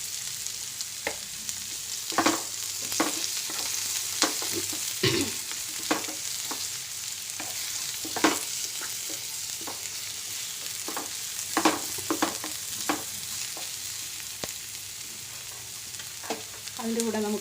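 Sliced onions sizzle steadily in hot oil with cumin seeds, with a constant frying hiss and repeated sharp pops and crackles spread across the whole stretch; no one speaks.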